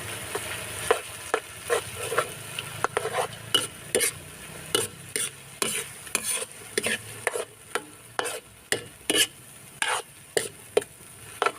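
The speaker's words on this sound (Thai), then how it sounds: "ก็จะพัด ไปเรื่อย ๆ จนกว่าไข่สุกนะครับ" An egg mixed into a dish is stirred and fried in a pan, with a spatula scraping in a steady run of sharp strokes over a soft, continuous sizzle, close and clear.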